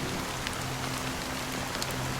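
Steady rain falls in the video game Honkai: Star Rail, a dense, even hiss of drops spattering on surfaces, with no voices over it.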